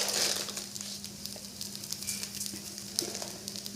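Coconut rice ingredients sautéing in a pan, a quiet steady sizzle with faint scraping stirs running through, fairly close and without talk.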